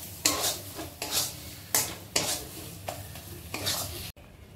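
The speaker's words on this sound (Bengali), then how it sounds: "এখানে নাড়িয়ে নেব।" Spiced vegetable peel mash being stirred in a hot pan with fried spices, about six loud scraping strokes at an irregular pace over a faint sizzle, ending abruptly.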